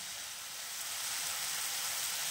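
Spice paste with a little water fries in a pan over raised heat, a steady, even hissing sizzle that grows slightly louder, close and continuous, with no voices.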